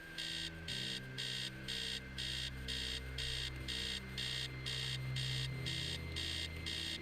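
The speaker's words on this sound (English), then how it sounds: "Upstairs, the sound of an alarm blaring." An alarm clock in the video game Stories Untold blares from upstairs in a house, a rapid, regular pulsing beep repeating steadily over a low humming drone, loud and insistent throughout.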